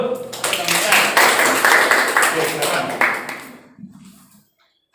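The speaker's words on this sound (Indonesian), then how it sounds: "Ya, tepuk tangan dulu." Students in a classroom clap for a classmate, a burst of brisk, uneven hand claps that fades out after about three seconds, followed by a brief spoken remark and then quiet.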